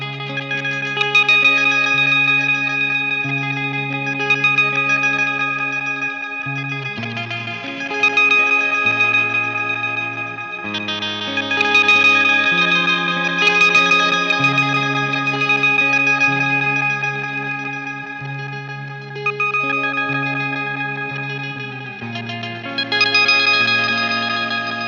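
An electric guitar runs through a pitched-up delay pedal that plays repeats partly in reverse and partly forward, producing shimmering, warbling echoed notes that swell and layer loudly in phrases for about 25 seconds, with no talking.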